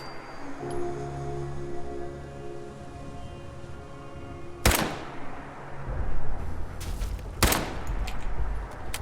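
Rifle pot shots ring out at beetles in Fallout 4, a few sharp, loud cracks spaced seconds apart after a quiet ambient stretch.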